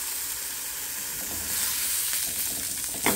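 A mushroom veggie burger patty cooks in a pan over low heat, giving a quiet, steady sizzle with a few faint scraping or stirring touches near the end.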